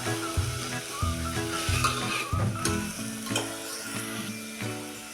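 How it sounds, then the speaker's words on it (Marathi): Masala sautéing in a pan for a wet soybean curry, with steady close sizzling and frying broken by rhythmic scraping strokes of a spoon stirring, loud and continuous throughout with no talking. "ते मिनिटभर आपण असं परतून घेऊया म्हणजे ह्या कालवणाला आपल्या कलर छान येतो"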